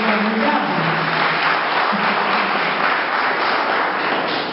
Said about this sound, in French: applaudissez pour moi si je dis que je suis formidable